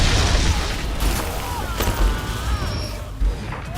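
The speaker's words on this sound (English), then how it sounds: "Nor and Inky can fuse together and unleash a devastating ultimate attack" Fused ultimate attack in the game Flintlock: The Siege of Dawn, a series of deep booming blasts and crackling bursts spread over a few seconds, loud and close, with a rumbling tail between hits.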